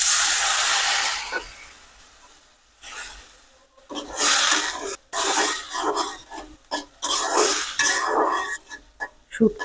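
Water poured into a hot pan of frying onions and dried chela fish sets off a loud, close sizzling hiss that surges in bursts and bubbles unevenly, with stirring scrapes between the surges.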